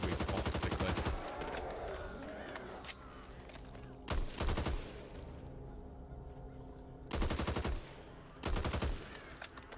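Rapid gunfire from shooting zombies in the video game Back 4 Blood, dense automatic bursts of shots that stop and restart in several loud bursts, close and continuous, with faint voices underneath.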